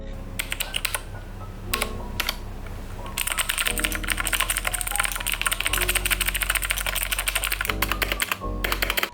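Rapid, steady typing on a Royal Kludge RK71 wireless mechanical keyboard produces dense clacking keystrokes, close and clear, with brief pauses between bursts and no voices.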